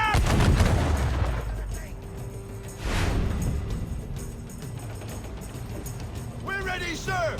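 Ship cannons fire during a naval battle in Assassin's Creed 4 Black Flag, heavy booms and blasts rolling out over shouted crew voices and ambient battle noise.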